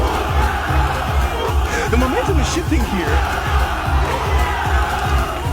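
A crowd at an MMA fight roars and cheers loudly and steadily, while a commentator talks over the noise.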